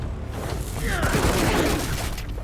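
Rapid volleys of gunfire and bursts in a League of Legends match, crackling shots layered over game effects, with a player talking throughout.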